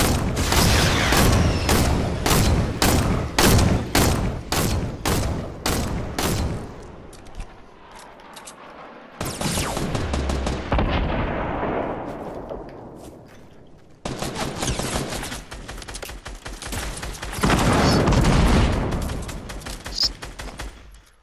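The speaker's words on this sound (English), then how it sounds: "Keep shooting, boys." Video game firefight with rapid, loud, close gunshots in steady bursts, then heavy booming blasts and sustained automatic fire that roll on for most of the stretch, with no talk over it.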